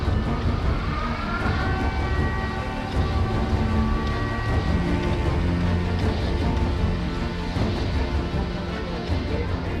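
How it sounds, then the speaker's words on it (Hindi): A police air raid siren sounds in wartime Ukraine, a loud wavering wail that holds steady throughout over a dense background rumble. "यूक्रेन की पुलिस सायरन बजाकर सिविलियन को जैसे ही अलर्ट करती है"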